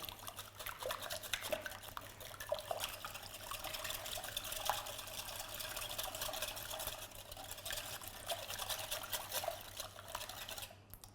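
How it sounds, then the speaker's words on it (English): Steady soft whisking of a liquid mixture for Um Ali in a bowl, a continuous swishing with faint clinks of the whisk against the sides, close and fairly quiet. "with a whisk, just gently mix all this together."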